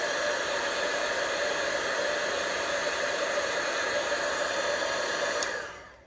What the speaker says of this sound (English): I'm going to melt the embossing powder with the heat tool.